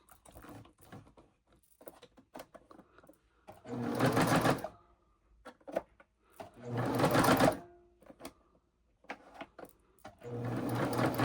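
A freshly oiled Singer Electronic 4814 sewing machine runs in three short bursts of fast, rattling stitching, close and fairly loud, with quiet pauses and small handling clicks between the runs.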